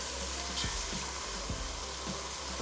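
Thick gravy being stir-fried briefly in a pan, a dense continuous sizzle close up with a few low knocks and scrapes of a ladle at intervals, no talking.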